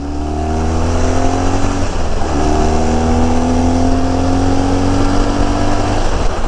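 A car engine revs hard under acceleration, climbing through the gears with rising pitch, a brief drop at a shift, then pulling up again, loud and close from inside the cabin with no voices.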